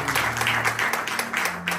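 A church congregation breaks into applause and clapping, a dense crowd of hands close by with a voice or two mixed in, lasting under two seconds.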